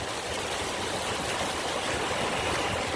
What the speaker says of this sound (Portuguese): Água lavando a pista aqui, ó.